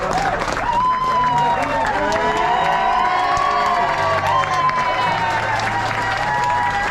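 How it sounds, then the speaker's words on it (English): An audience applauds and cheers loudly at an indoor interview event, a dense continuous wash of clapping with whoops and shouts rising above it, steady throughout, with a voice speaking underneath. "you guys are applauding"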